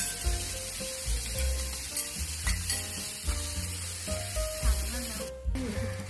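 Pork ribs stir-fried in a Korean mala sauce in a hot pan give off a loud, continuous sizzle, broken by the scrape and clatter of stirring close by.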